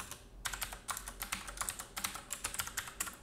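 Rapid, fairly quiet clicking from a computer keyboard, with keystrokes in an uneven, continuous typing rhythm close by.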